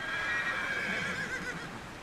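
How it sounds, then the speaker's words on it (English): A horse whinnies in the open highlands of Kyrgyzstan, where herds run wild; a bright, wavering neigh rises and fades over about two seconds against steady wind-like background noise, fairly close. "Munabek's horses run wild up here"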